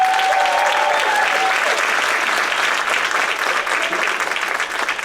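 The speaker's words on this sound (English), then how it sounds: "Can we get another round of applause?" A large audience claps loudly and continuously after a speech at a live-streamed NC State event, the dense applause fading slightly toward the end.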